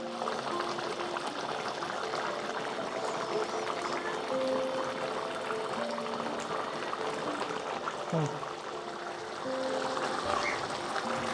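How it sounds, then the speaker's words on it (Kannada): Spicy mutton pieces fry in a pan as their water cooks off, giving a soft, continuous bubbling sizzle with faint crackles and occasional light scrapes, quiet and steady throughout. "ಇದೇ ರೀತಿ ಫ್ರೈ ಮಾಡ್ತಾ ಮಾಡ್ತಾ ಬಂದರೆ ಸ್ವಲ್ಪ ನೀರಿನಾಂಶ ಎಲ್ಲ ಕುದ್ದು ಹಾವಿಯಾಗಿ ಹೋಗುತ್ತೆ"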